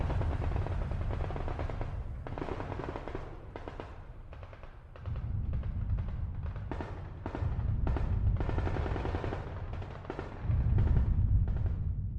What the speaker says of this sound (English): taking us far from the distant booms and gunfire that now echoed in the forest